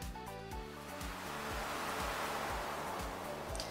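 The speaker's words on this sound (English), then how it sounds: "Oh my gosh, the waves are loud." Ocean waves wash steadily in the background ambience of the Stardew Valley farming game, a continuous broadband surf roar with music notes layered on top, fairly loud throughout.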